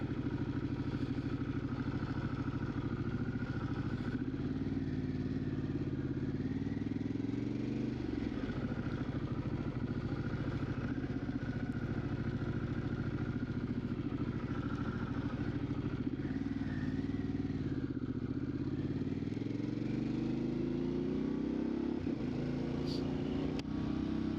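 Harley-Davidson Pan America motorcycle riding and making a full-lock U-turn, a steady close engine drone that dips and rises in pitch with throttle changes, wind and road rumble throughout, with someone talking over it.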